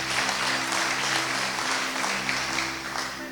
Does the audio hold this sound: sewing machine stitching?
no